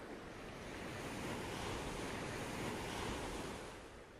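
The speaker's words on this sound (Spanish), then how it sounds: "como las olas en la orilla" Steady sea waves wash onto the shore, a continuous broadband surf roar with slow swells in loudness, fairly soft and alone with no voices.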